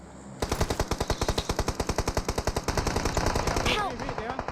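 Rapid automatic gunfire in the mobile game PUBG Mobile, a close, loud, steady stream of evenly spaced shots lasting several seconds, ending in a short scatter of smaller impacts.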